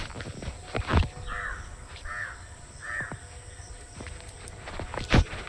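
Three evenly spaced, harsh cawing bird calls ring out at moderate distance in a village garden, with soft thumps and rustles around them and no talking.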